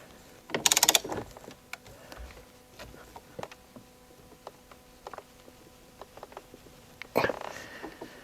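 A wrench tightens the steering wheel nut on a BMW i8. Two short, louder bursts of clicking come at the start and end, with faint scattered ticks and quiet in between.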